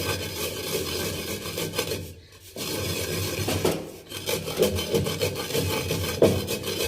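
Spice masala for a lemon and chilli pickle being rubbed and ground in a mortar and pestle, giving a continuous close gritty scraping and rasping with a brief pause partway through, heard alone.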